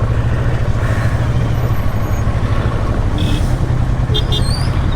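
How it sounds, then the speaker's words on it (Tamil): Heavy truck traffic in a monsoon-season jam in Maharashtra, a steady loud low engine rumble with brief air-brake hiss and short high tones near the end, continuous throughout. "ஊருக்கும் பார்த்தீங்கன்னா செம்ம டிராஃபிக்காக இருக்குது"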